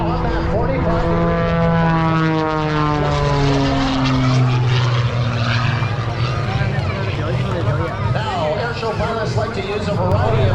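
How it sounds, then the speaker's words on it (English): An aerobatic propeller airplane flies at an airshow, its engine droning loudly with a pitch that sweeps downward as it passes and maneuvers, while a commentator talks over it. "We're looking at the bottom side of the airplane as he falls back on that stick."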